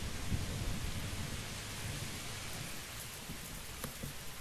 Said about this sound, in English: Look at that lightning.